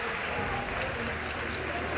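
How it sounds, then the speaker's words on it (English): An audience claps throughout at a SoulCalibur VI tournament, dense and continuous applause filling the space at a steady level, with faint talk mixed underneath. "don't know who they're clapping for"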